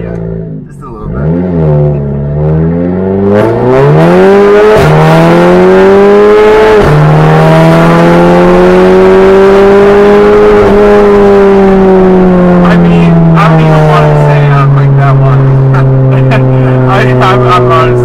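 A modified Audi A3 engine revs and accelerates hard up close, its pitch climbing through several gear changes with a loud, throaty exhaust note.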